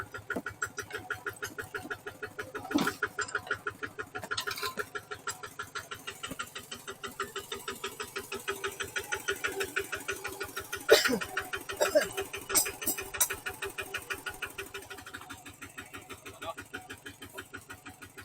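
A tractor engine chugging steadily as it drives up a hill on a second attempt, a loud continuous rhythmic thump with brief louder bursts, close, with occasional voices over it.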